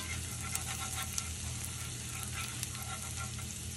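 Garlic fries in melted butter in a pan with a steady close sizzle and a faint low hum beneath, punctuated by a few small pops and crackles, with no voices.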